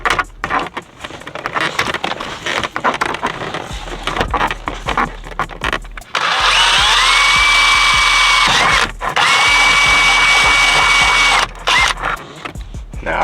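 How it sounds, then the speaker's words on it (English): Power drill boring with a drill bit during work on a 2006 Dodge Charger, starting with handling clatter and clicks, then two long, loud, steady whirring runs separated by a short pause, close up. "Now I hope this drill bit is big enough. But we finna just go straight in."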